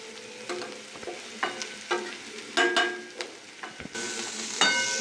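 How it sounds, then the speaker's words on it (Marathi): Onion and grated coconut sauté in a kadhai, giving a soft, steady sizzle broken by irregular scraping and tapping of a spoon stirring against the pan. "तर आपण कांदा कढईमध्ये टाकलेलं आहे. याला थोडंसं जे आहे परतून घेऊ."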